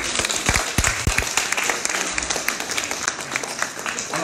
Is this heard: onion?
no